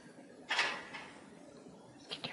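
A wooden drawer slides open in the game Among the Sleep: one scraping pull, then a couple of faint knocks, heard alone in a quiet room.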